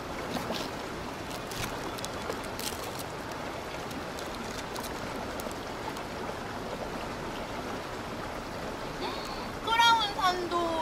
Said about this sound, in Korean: 아유 물소리 좋네요.